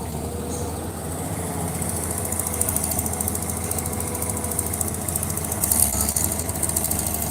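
A Cat backhoe excavator digging a farm pond and loading soil into a dump truck, its diesel engine droning loud and steady at close range with rattling, knocking mechanical vibration and a brief surge of clanking near the end.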